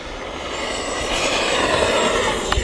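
An FMS F-16C 70mm EDF radio-controlled jet roars on full-throttle takeoff: a steady, loud broadband whine and rush of ducted-fan thrust that builds slightly as it goes, with a brief click near the end and no talk.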